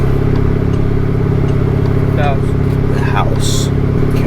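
Turbocharged Honda Civic with an R18 engine droning steadily while driving off, a loud constant low engine hum inside the car with people talking over it.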